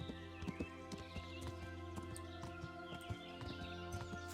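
Horse hooves clip-clop at a steady walking pace in a medieval open-world game, faint and mid-distance, over a sustained low musical drone with occasional birdsong.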